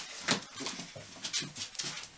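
A pet dog whimpers and whines indoors in short, thin, high bursts, about five of them spread unevenly over two seconds, fairly close but not loud.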